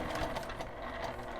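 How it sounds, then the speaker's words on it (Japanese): Sewing machine stitching laminate fabric for a small coin purse, a close, rapid mechanical whir with fast repeating needle clatter, steady throughout. "この留め具の少し手前でミシンを留めます。"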